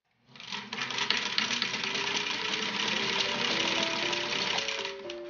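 A Singer 15-91 sewing machine stitches in reverse through four layers of denim, a steady close whirring and rapid needle chatter that starts abruptly and runs evenly for about five seconds before stopping.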